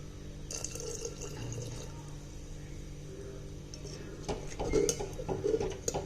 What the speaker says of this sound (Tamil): இப்போ நம்ம 1 கப்பு தேங்காய் பால் சேர்த்துடலாம்.